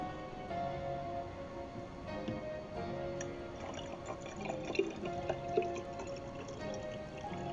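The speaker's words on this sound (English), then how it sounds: "Oh, it's dripping." Water drips and trickles while a houseplant is watered with dechlorinated water, soft irregular droplets and small splashes close by over a faint background hiss.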